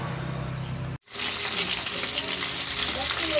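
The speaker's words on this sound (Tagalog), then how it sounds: "Prito natin mga lods." Dalagang bukid fish sizzles steadily in hot oil, with a brief silent cut before a loud, bright crackling frying sound resumes.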